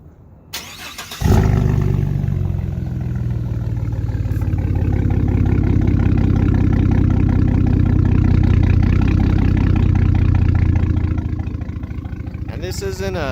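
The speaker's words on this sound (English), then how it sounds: "here I'll start up the truck for you too, so you guys can hear what it sounds like." A lifted 2014 Chevy Silverado pickup with 7-9 inch suspension turns over after a brief crank at about one second, then settles into a loud, steady rumbling idle close by, with a slight change in tone near the end.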